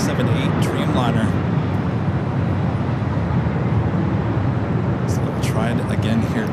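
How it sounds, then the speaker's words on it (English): A 10-year-old Boeing 787-8 Dreamliner at LAX gives off a continuous broadband jet roar, steady and fairly close for the whole stretch. "Flight 603, it's a 10-year-old 787-8 Dreamliner."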